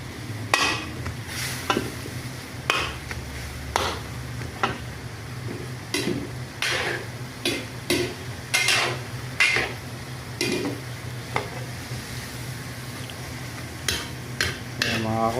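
Pancit bihon rice noodles being stir-fried in a pan, with repeated sharp scrapes and clanks of a utensil against the metal at an uneven pace over a low steady hiss.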